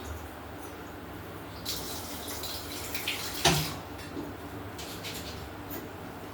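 Water pours steadily into a blender jar, a soft continuous splashing at close range, with a few brief clinks and sharper splashes partway through.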